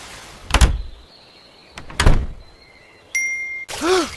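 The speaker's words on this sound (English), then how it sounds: "Close the window." A window is shut with two heavy thuds and a sliding rumble, then a faint squeak, a bright metallic ding and a short tonal cry at the end.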